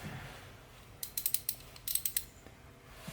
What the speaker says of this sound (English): So that's a 13 millimeter socket.